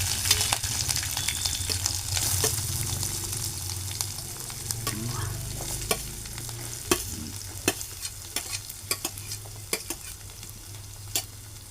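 Chopped chili, onion and curry leaves sizzling in a pan while being stirred, a continuous loud close fry broken by sharp spatula knocks against the pan that grow more distinct toward the end.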